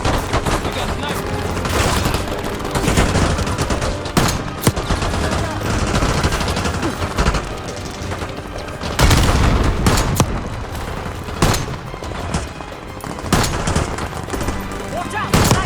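Gunfire and sniper shots from Call of Duty Black Ops 6 crack out loud and dense across the whole stretch, with bursts of automatic fire and heavier booms overlapping, and voices call out between the shots.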